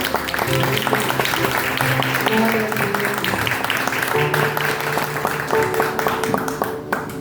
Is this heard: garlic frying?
no